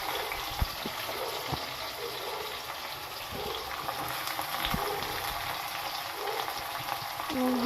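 Onions sizzle and fry steadily in a hot oiled pan while making chitranna, a constant crackling hiss with faint clinks of stirring throughout.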